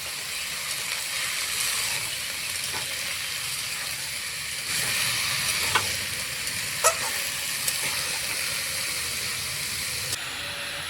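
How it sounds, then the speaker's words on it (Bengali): Ash gourd and mung dal curry is stirred in a pan over a steady, close sizzling hiss, with a few soft scrapes and clinks of the spoon scattered through. "একটু নেড়ে কেটে দেবো"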